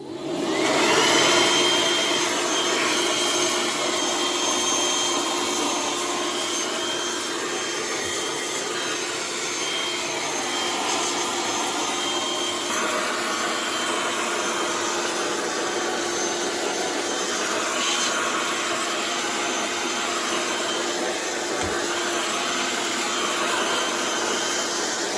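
A Bosch GBL 18V-120 cordless battery blower runs steadily at close range, a loud continuous whooshing roar that holds nearly constant for the whole stretch with no pauses and no voices.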